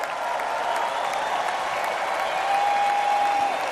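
A huge crowd at the Republican National Convention roars and applauds continuously, a dense, loud, steady wash of clapping and cheering with no pauses.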